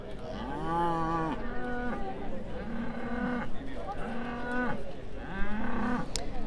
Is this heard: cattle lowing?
yes